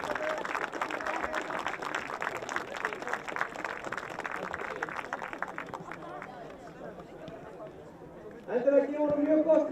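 An audience claps for a youth football award winner at a club ceremony, a dense sustained patter of many hands filling most of the stretch before fading, then a voice speaks over renewed noise at the end.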